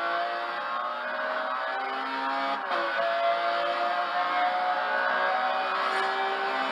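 A Lotus 11 in Forza Horizon 2 drives with its engine holding a steady high drone, rising slightly in pitch partway through, even and continuous without talk.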